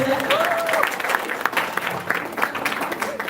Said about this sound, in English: Clap them again, please.